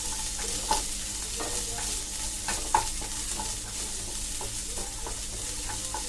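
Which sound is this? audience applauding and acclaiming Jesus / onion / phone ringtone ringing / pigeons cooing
onion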